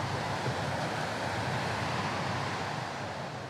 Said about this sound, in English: That's a heavy wave.